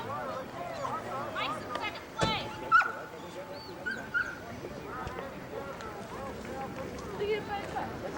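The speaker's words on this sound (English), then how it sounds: "Dog." A dog barks and yips a few times at an outdoor triathlon by a lake, short sharp calls mixed under nearby people talking and general crowd bustle.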